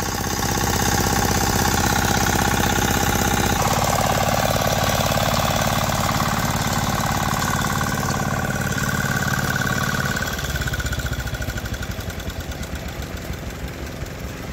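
A kick-started farm engine runs loud and steady in a flooded rice field, a dense, close mechanical drone that shifts pitch a couple of times before winding down and fading toward the end, with no talk.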